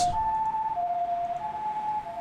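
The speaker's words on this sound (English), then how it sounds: "There are screams and blaring sirens." A video game siren wails in long sustained tones that step between pitches, loud and steady, with no voices.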